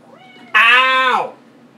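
A pet cat gives a single loud, close meow about three-quarters of a second long, rising and then falling in pitch, with quiet room sound before and after.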